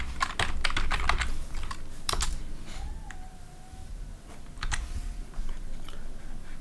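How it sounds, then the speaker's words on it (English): Rapid keystrokes on a computer keyboard, close and crisp, arriving in quick bursts with short pauses between them while a web address is typed. "we'll go ahead and type in the address bar aws.amazon.com"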